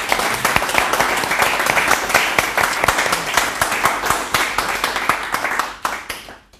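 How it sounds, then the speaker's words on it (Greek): Sustained applause from a studio audience for a dance troupe from a dance centre in Trikala on a Greek TV show: dense, steady clapping that carries evenly for several seconds before thinning and tailing off at the end. "Πάμε ένα μεγάλο χειροκρότημα."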